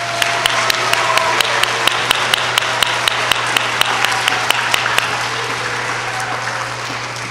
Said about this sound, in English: please join me in one more round of applause for the Bulldogs.